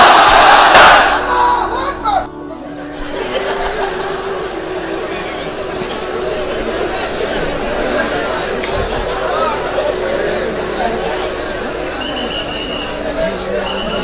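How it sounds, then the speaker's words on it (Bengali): A large crowd at an outdoor Islamic religious gathering chants the takbir together, a dense, loud mass of voices roaring in unison and sustained for several seconds. "সবাই মিলে 3টা পড়েন, লিল্লাহি তাকবীর।"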